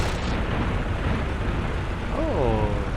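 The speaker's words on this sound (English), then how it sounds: "What's all the fucking explosions, man?" Dense, continuous rumbling explosions and booms from an Ork city assault in a video game fill the scene, with a voice speaking briefly near the end.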